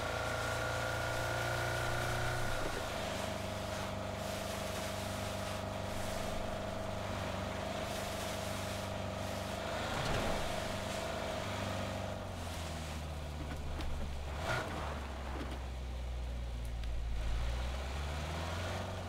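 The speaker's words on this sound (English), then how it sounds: "Now this car's not as loud as the other ones. Oh, now it decides to go loud." A car engine hums and drones in PUBG, with its pitch shifting as the vehicle speeds up and slows down while crossing snowy terrain, steady and moderately loud throughout.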